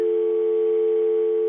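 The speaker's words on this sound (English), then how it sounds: "I heard a dial tone, which is odd coming from a cell phone" A steady, unbroken telephone dial tone heard from a cell phone after the call drops. The hum holds at one constant pitch and loudness, close and alone.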